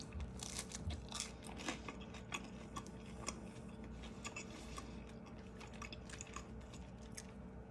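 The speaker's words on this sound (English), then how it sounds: "Perfect French bread. Chewy and soft on the inside. Flaky and crunchy on the out." Close, steady crunching and chewing of crusty French bread, with repeated crisp bites and mouth sounds and no talking.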